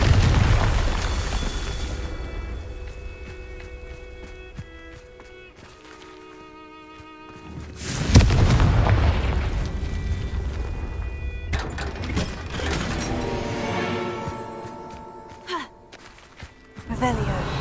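Confringo fire spells in Hogwarts Legacy burst out as loud, booming explosions, one big blast and several smaller ones, each followed by crackling debris and a magical shimmer.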